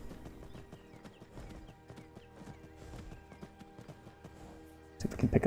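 Rhythmic clip-clop of hooves as a horse gallops steadily in the video game Skyrim, close and fairly loud, with a brief louder burst of clattering at the end.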